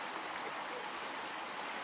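The Wapienica river near Bielsko runs low during a drought, giving a steady, even hiss of shallow flowing water with no other sounds over it.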